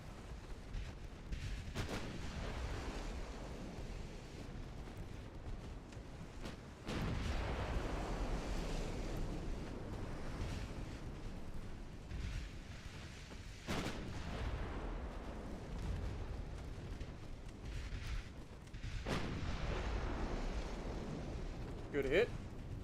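Naval guns fire in the strategy video game Forge of Freedom, several heavy booming shots spaced across the stretch, with someone talking steadily over the battle sounds.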